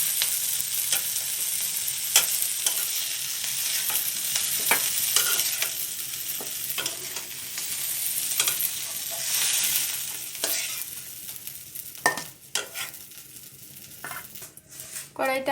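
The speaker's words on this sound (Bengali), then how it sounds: "এবার চিংড়ি মাছগুলো ভাজা হয়ে গেছে।" Prawns frying in a pan for a prawn, ridge gourd and potato curry, giving a loud, dense sizzle throughout with frequent spatula clicks and clinks against the pan, busier near the end.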